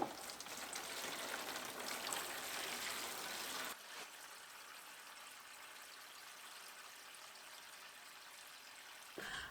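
Water poured into a tray to bottom-water seedlings makes a steady splashing rush for a few seconds, then drops to a soft, quiet trickle and hiss.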